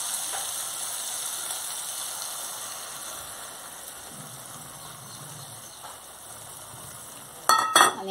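Eggs poured into a hot spiced masala in a pan for anda bhurji, giving a steady close sizzle of frying that ends in a short burst of clattering stirring.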